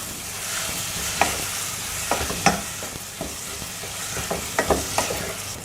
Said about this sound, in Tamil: நல்லா கிளறி விட்டுட்டே இருக்கலாம்.